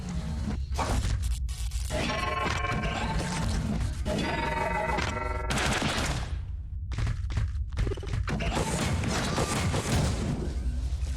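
A rocket smashing through a barrier in the side-scrolling game Ghost Song, loud crashing blasts and explosive impacts mixed with game effects and tonal chimes, busy and dense throughout.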